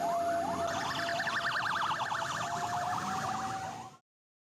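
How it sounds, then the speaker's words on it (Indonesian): A fire engine siren in Medan, North Sumatra, in the aftermath of a fire at a sandal factory, a wailing, rising and falling siren, fairly loud and steady, fading out sharply at the end. "kendaraan damkar masih terus berlalu lalang untuk memadamkan api"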